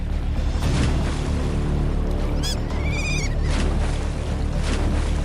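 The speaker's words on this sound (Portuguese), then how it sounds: "Ao som da água estourando, o jovem crocodilo se debatia violentamente, tentando escapar" A young crocodile thrashes violently in shallow water as otters drag it in, throwing up loud, continuous splashing and churning close by, with a few brief high bird-like squeals partway through.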